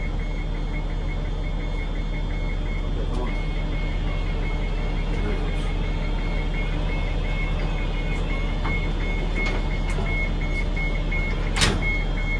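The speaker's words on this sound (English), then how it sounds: "Okay, then I want to stow my ramp." A transit bus wheelchair ramp stows under a steady motor hum, with a repeating high warning beep pulsing through the whole stretch, close and continuous, with no talking.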